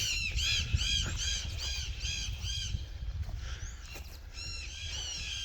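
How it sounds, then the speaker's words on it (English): Parrots squawk repeatedly in a harsh, rhythmic series of loud calls in a Bolivian cemetery, pausing briefly before another burst, over a low outdoor rumble. "Those are the parrots I was talking about. You hear them squawking."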